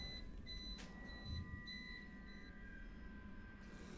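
A UPS battery backup sounds a steady, continuous series of high electronic beeps, repeating evenly and fairly quietly under a low background hum.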